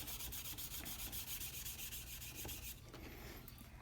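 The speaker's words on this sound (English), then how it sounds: "We'll try and get this surface rust off here. Get our steel wool out." Steel wool rubs surface rust off the blued metal of a gun in steady, rapid back-and-forth strokes, close and continuous, easing into softer, slower scrubbing near the end.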